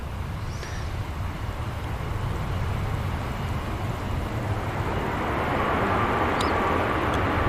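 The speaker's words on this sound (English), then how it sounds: "Ryanair just touching down behind this BA" A Ryanair airliner touches down on a runway at Manchester Airport. A distant, steady rumble of engines slowly grows louder over several seconds with no voices.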